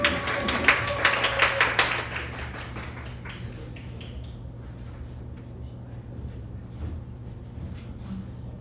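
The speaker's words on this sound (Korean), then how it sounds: "저희 선아님 한번 박수로 모셔보도록 하겠습니다." Scattered audience clapping welcomes a speaker to the stage, several quick claps in the first two seconds over a steady low hum, then the claps fade out.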